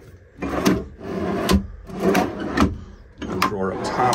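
Wooden drawers in a 2002 Chinook Destiny Class B+ motorhome slide open and shut close by, four separate rolling slides with soft knocks at the ends, spaced about a second apart.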